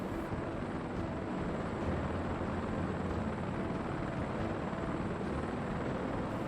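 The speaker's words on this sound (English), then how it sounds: "Noisy little choppers" A helicopter drones in a flight simulator, a dense, steady rotor and engine roar that holds at one loud level throughout with no voices.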